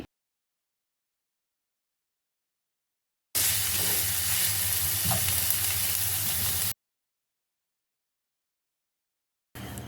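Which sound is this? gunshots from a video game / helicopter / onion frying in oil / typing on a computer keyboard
onion frying in oil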